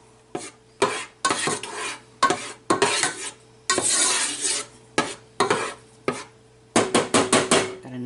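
About a teaspoon of garlic cooks in a pan for a pasta sauce for meatball grinders. Loud bursts of sizzling and stirring come close up in an uneven rhythm, with short quiet gaps between them.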